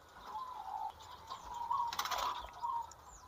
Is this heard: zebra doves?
yes